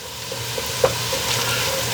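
Unsalted butter melting in a pan for a tuna casserole, a steady close sizzle with a light scrape of stirring, no talk.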